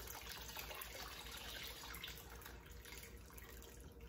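Water pours steadily into a canner holding canning jars, a continuous close rushing splash with no talk over it.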